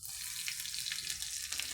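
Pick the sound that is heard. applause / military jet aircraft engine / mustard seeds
mustard seeds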